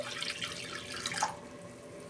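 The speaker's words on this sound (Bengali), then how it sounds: "কড়াই জল দিচ্ছি," Water poured into a kadai while cooking, a steady close splashing and trickling for a little over a second that then fades, ending with a short sharp clink.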